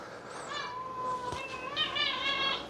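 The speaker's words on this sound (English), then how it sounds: "Just gonna have to kiss the kitty. Why do you make strange sounds?" A cat making strange warbling, wavering meows and chirps at close range, quiet, with a brief thump partway through.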